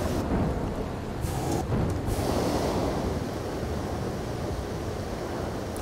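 Rain and thunder in the video game Red Dead Redemption 2, with a steady heavy rain hiss and a low rolling thunder rumble that fills the whole stretch at moderate volume, without talk.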